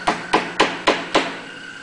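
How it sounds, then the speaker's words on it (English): Five sharp, evenly spaced taps of a small brad hammer striking brads into wood, each a crisp knock with a brief ring, alone in a quiet room. "we'll use our little brad hammer"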